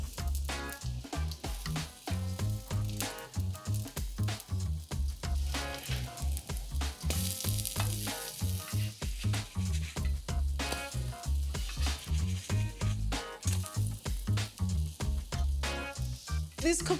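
Thick, fluffy pancakes frying in a pan at a Greek breakfast table, a steady close sizzle running throughout with faint stirring or scraping sounds and almost no talking.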